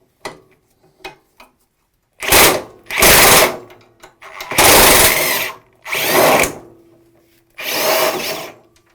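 Power tool whirring in short bursts while taking the deck off a rusty 1982 scrapyard mower, five loud runs separated by pauses, preceded by a few small clicks and knocks.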